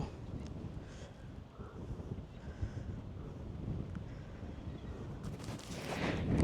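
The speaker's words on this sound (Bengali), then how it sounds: "যে বাতাস এখানে, কথা যে বলবো, আমার কথা ক্লিয়ার শুনবেন কিনা বুঝতে পারতেছি না" Strong wind gusting straight into a microphone in a Hong Kong village near a cable car, a loud buffeting roar that swells and rises toward the end, with no voices.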